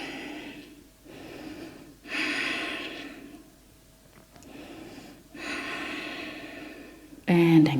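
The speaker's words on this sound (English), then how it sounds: "Take deep breaths." Slow, deep breaths during an energising yoga flow, several long audible inhales and exhales close to the microphone, ending in a brief louder sound.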